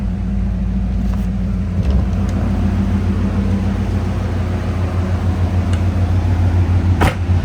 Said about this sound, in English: I'm going to hop outside so you can give this car a listen.